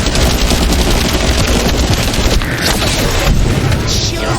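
Explosions and heavy gunfire in the video game The First Descendant as a bomb is set off to blow up a device, giving a dense, loud, continuous barrage of booms and rapid shots with game voices under it.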